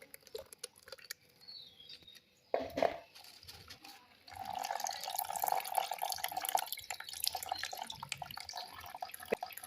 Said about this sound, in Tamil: இப்போது வடிகட்டி ஒன்று வச்சு இதில் வந்து நம்ம வடிகட்டி எடுத்துக்கணும்